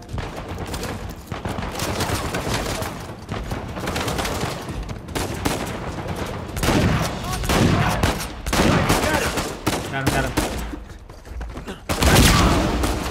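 Rapid bursts of gunfire, shotgun blasts and machine-gun fusillades in the video game Uncharted 4, loud and dense with short gaps, while a player talks over the action.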